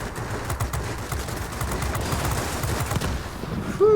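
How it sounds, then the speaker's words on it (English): Airplane machine guns firing in World of Warplanes, a steady rattling stream of rapid gunfire with overlapping bursts and engine noise, continuing for several seconds. "Glad my guns were hitting there."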